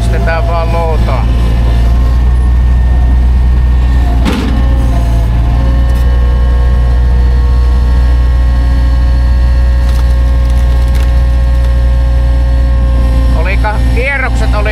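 A hydraulic wood splitter's engine running at too-low revs, droning steadily and loudly close by with a few rough stumbles and knocks, while a voice talks over it.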